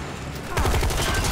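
Rapid gunfire erupts from weapons in the video game Resident Evil 3 Remake, a loud, dense burst of shots that rattles on continuously after a brief lull.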